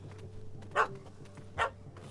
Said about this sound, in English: Don't know how to handle yappy little dogs?